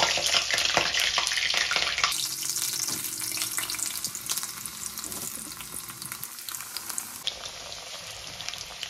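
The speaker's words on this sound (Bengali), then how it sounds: "আলুগুলো ভালো করে ভেজে নেবো আমি" Potatoes fry in hot mustard oil with a loud, steady sizzle that shifts in intensity as the pieces are moved about, with no voices.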